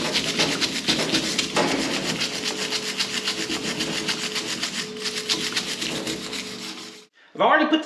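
A green Scotch-Brite pad scrubs carbon off the heads of small-block engine valves, making close, continuous rhythmic scraping strokes that stop abruptly near the end before a brief burst of other noise.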